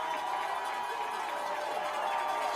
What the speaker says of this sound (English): The crowd again up and yelling.